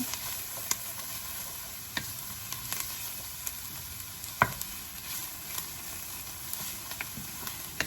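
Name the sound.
tomato soup ingredients sizzling in a pot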